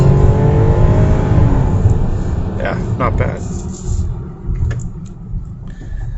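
A 2021 Hyundai Palisade Calligraphy SUV with all-wheel drive accelerates hard from full throttle, a loud, steady low engine roar filling the cabin while a person talks over it.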